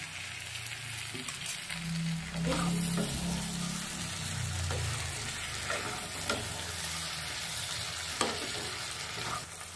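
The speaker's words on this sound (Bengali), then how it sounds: "মশলাটার সঙ্গে সবকিছু কষিয়ে নেবো ভালো করে।" A cumin and chili spice paste, thinned with a splash of water, sizzles and fries while being stirred, giving a low bubbling hiss with scraping strokes and soft clatters throughout. No one speaks.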